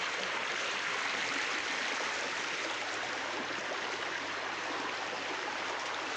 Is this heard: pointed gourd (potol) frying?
no